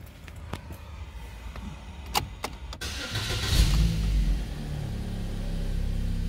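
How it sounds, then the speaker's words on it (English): A Holden Cruze with a hard-starting fault and crank sensor code P0335 is cranked and its engine catches, after a few clicks and clunks, settling into a steady close idle. "let's go start the car up and see what we get"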